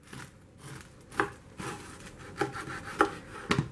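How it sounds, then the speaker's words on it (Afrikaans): A large meat knife saws through a crusty home-baked farm loaf (boerbrood), giving rough, crunchy rasping strokes with sharper crackles as the crust gives, close up with no talking. "as jy nou die brood gebak het, dan sny jy met die vleismes. Hoor hoe gurt hy"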